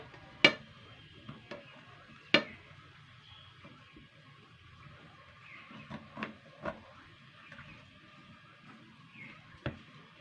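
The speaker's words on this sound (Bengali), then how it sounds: "এই যে এটা নিচে ফেলে কাটাটাই ভালো, নাহলে আবার হাত কেটে যাবে।" A knife cutting mango pieces on a board for mango pickle, faint sparse taps and knocks scattered irregularly over a quiet background.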